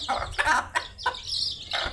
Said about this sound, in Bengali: মুরগিটাকে এখন খাইতে দেবো চাল।